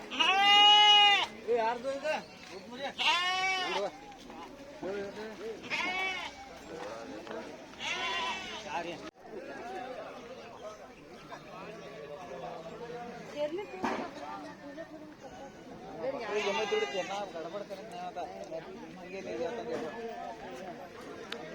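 Goats and sheep bleat repeatedly amid a busy livestock market crowd in Hubli, Karnataka, with loud close calls at the start and scattered chatter and voices throughout.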